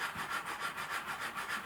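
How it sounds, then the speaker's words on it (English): A sanding stick with fine paper is rubbed gently back and forth across a piece of balsa wood, giving a soft, close, rhythmic scratching of even strokes, about six per second. "and just give that a very gentle sand"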